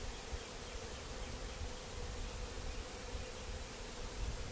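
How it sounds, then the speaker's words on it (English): Dense, steady buzzing hum of many honey bees at an opened hive during a beekeeping inspection, loud and close, swelling slightly toward the end with no talk over it. "the bees are starting to get loud"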